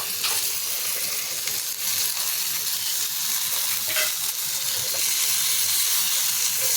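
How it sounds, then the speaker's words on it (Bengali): Fried eggplant and eggs go into a pan of hot cooked spice paste, which keeps up a loud, steady sizzle and hiss throughout, close by, with faint stirring scrapes now and then. "এর মধ্যে আমি দিয়ে দিচ্ছি ভেজে রাখা বেগুন আর দিয়ে দিচ্ছি ডিম।"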